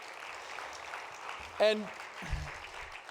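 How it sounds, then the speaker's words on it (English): A conference audience at an opening ceremony applauds steadily, a soft, distant wash of clapping throughout, while someone briefly speaks over it. "please give yourselves a round of applause for all the work that went into this campaign"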